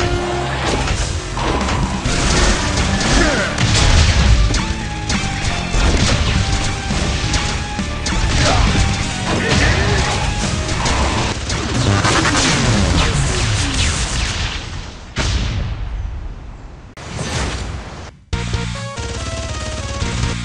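Explosions and grenade blasts in the Android action game Contra Returns, a dense, continuous barrage of loud crashing booms and impacts layered with game effects, briefly cutting out near the end before resuming.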